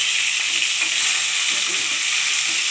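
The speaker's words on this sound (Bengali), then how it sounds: "দেখুন মাছটা ভাজা হচ্ছে।" Fish frying in hot oil in a pan, giving a steady, close, bright sizzle that holds at an even level throughout, with no voices.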